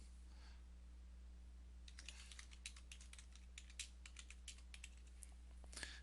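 Clicky keystrokes on a computer keyboard as a day-off entry is typed into a church calendar, an irregular run of quick taps starting after a short pause and continuing steadily, close and fairly quiet over a low steady hum.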